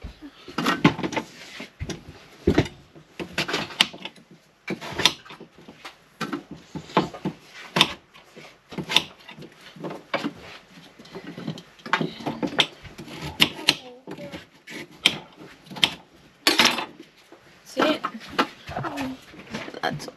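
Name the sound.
knife dicing pumpkin, sweet potato and carrot without a chopping board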